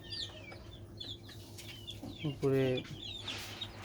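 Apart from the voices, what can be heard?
young native chickens clucking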